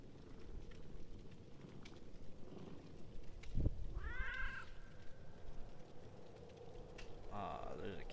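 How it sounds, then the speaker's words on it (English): A cat meowing in a Dead by Daylight video game character animation, several short, faint mews over a low background hum, alone without talk. "Oh, she has a cat in her animation."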